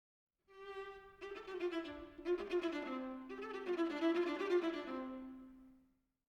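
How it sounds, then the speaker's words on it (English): A solo viola plays the slow subject of a Beethoven fugue, a sustained melodic line in a few long phrases, warm and mid-low in pitch, with no other instruments. "In Beethoven's piece, the viola goes first and the subject sounds like this."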